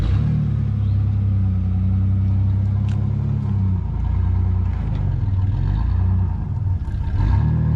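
A truck engine idling and revving as it backs up near a door, a loud close rumble that swells and dips over several seconds.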